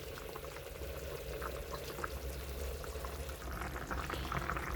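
Fish curry broth with winter vegetables bubbling in a pan, a steady close simmer with soft bubbling pops throughout and no talking.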